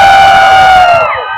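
A crowd at the 2024 Idaho Renaissance Faire cheers loudly to pick the winning fighter, a sustained roar of voices that stays strong throughout and then trails off at the end.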